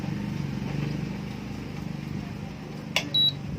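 A Butterfly induction stove with an E4 error fault is switched on and gives a brief click, then a short high-pitched beep near the end, over a steady low background hum.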